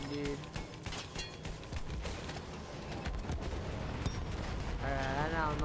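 Gunfire in Battlefield 1: a dense, continuous stream of close and distant shots and bursts, with a voice talking over the shooting.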